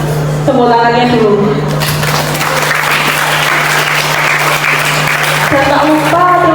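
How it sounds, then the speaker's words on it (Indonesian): A crowd bursts into sustained applause, loud and dense for several seconds, with a voice speaking before and after it, at a film discussion event held by a university student association. "Tepuk tangannya dulu."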